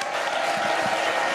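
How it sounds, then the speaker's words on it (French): A live studio audience applauds as a comedian comes on for a comedy segment, a steady, dense wash of clapping that fills the whole moment with no voices over it. "Non, n'applaudissez"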